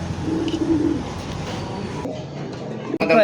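Lahori pigeons coo at a busy pigeon market, with soft throaty calls close by, layered over crowd murmur and a brief clatter at the end.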